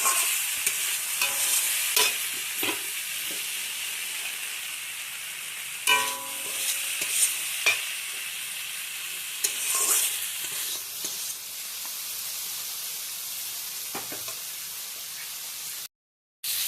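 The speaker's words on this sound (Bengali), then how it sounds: "কুমড়ো দিয়ে আবারও ভালোভাবে নেড়ে চেড়ে নেওয়া হচ্ছে।" Bitter gourd and pumpkin frying in a wok (kadai), a soft steady sizzle with intermittent spatula scrapes and clinks against the metal, close and fairly quiet, continuing without speech.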